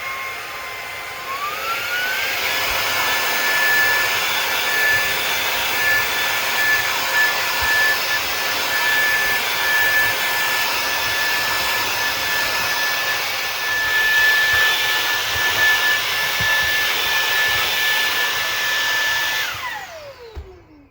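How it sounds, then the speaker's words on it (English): A vacuum cleaner revs up and runs at a steady high whine while cleaning the screen and blades of an Airstream trailer's roof fan, then winds down at the end; no voices. "Now I'm going to grab a vacuum and clean it off"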